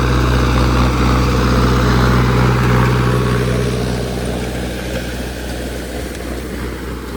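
A Mahindra Arjun Novo tractor engine runs with a loud, steady low throb and dense harmonic hum, easing slightly in level partway through, with no talking.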